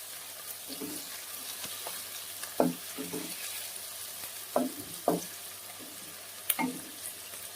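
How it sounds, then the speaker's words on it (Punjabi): Onions and garlic fry in a pan while being stirred, a steady soft sizzle with scattered scraping knocks of the utensil against the pan, fairly quiet and close. "ਤੇ ਹੁਣ ਵਿੱਚ ਪਾਤਾ ਇਹਦੇ ਪਿਆਜ਼ ਹੁਣ ਇਹਨੂੰ ਹਿਲਾਈ ਜਾਣਾ"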